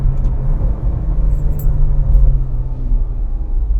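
A Ferrari GTC4Lusso T pulls away smoothly from inside the cabin. The engine gives a steady, muffled low rumble with road noise and no sharp revs, fairly loud and continuous throughout, with no one speaking.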